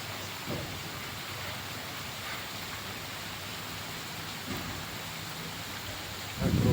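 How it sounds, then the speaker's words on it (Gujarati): Heavy rain pours down steadily while sheltering under a concrete tank slab, a dense constant hiss with a few soft thumps of drops and a louder bump at the very end, no voices. "આ વરસાદ કેટલો પડે છે।"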